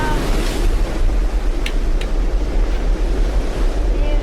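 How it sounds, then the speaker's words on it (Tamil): Strong storm wind blows in a loud, constant rush with heavy low buffeting against the microphone, steady for the whole stretch. "காத்துனா ரொம்ப அடிக்குதுடா"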